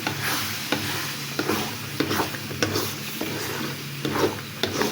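Spice mix stirred into a sweet mango chutney pickle in a pan: steady sizzling with repeated scraping stir strokes at an even rhythm, close and clear, no voices.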